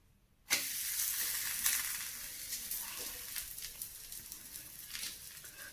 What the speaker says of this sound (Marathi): आपण आता पराठा तव्यात टाकून घेऊया